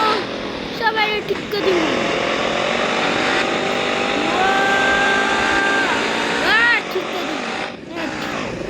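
A motorbike engine in the video game Free Fire drones steadily, its pitch rising and falling as it revs, loud and continuous, while someone talks over it.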